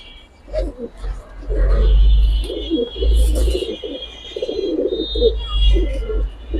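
Giribaj pigeons coo in a loft, low rolling coos repeating in bursts close by, with people talking over them.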